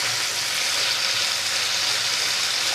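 Paneer cubes frying in oil in a pan for a simple home paneer dish, giving a steady, loud, even sizzle that runs unbroken throughout with no talking.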